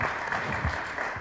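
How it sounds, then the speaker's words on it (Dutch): Brief applause from a conference audience at the close of an open data congress session in Eindhoven, a dense steady patter of many hands clapping close by for just over a second. "Een applaus voor Rob Bots."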